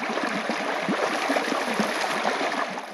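Big Brook, a stream in Mount Carleton Park, flows past a hiking trail crossing with a steady, broad rushing and gurgling wash. It is close and continuous with no voices.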